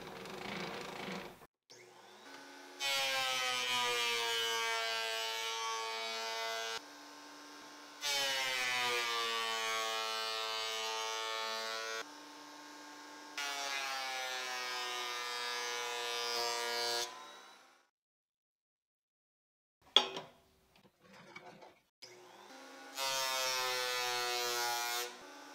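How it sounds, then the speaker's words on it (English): Reclaimed wood parts, including blocks of a dark-colored wood, fed through a planer: a loud, steady whining drone in several separate passes of a few seconds each, split by short pauses and a sharp knock near the end. "I'll start the work by passing these 3 parts through the planer."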